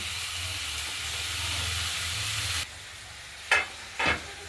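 Chopped spring onions sizzle and crackle steadily in mustard oil in a wok for a couple of seconds, then stop, followed by two short bursts of hissing sizzle.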